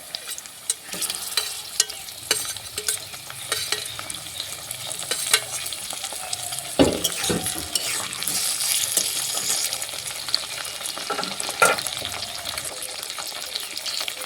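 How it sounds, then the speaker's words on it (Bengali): Chopped capsicum, carrot and tomato fry and get stirred in a pan while cooking semolina upma, a steady sizzle with scraping stir strokes, close and continuous, no voices. "ক্যাপসিকাম গাজরের সঙ্গে হালকা করে ভেজে নেওয়ার পরে এখন দিয়ে দেবো টমেটো কুচি"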